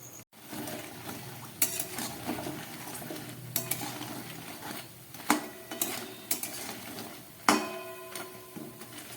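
Urad dal fritters frying in oil over a low flame, a soft, quiet sizzle broken by intermittent clinks and scrapes of a utensil against the pan, close by, with no talking.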